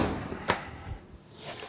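A drawer holding a spare hardware bag is pushed shut, giving a brief wooden knock and slide amid faint handling rustles, heard close and alone.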